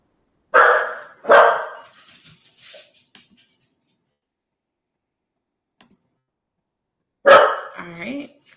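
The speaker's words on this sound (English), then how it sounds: "my dog is barking at who knows what" A pet dog barks indoors in two sharp bursts followed by smaller yaps, then falls quiet before another short round of barking.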